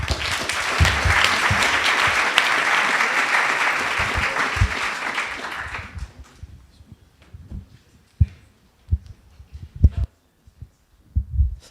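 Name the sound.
audience applause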